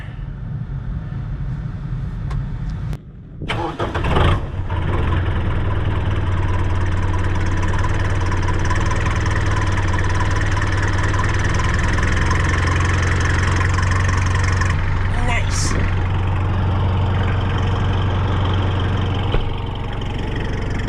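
An old snow plow truck's engine cranks and catches, then settles into a loud, steady, rough idle with a low rumble that runs on for many seconds close by, no talking.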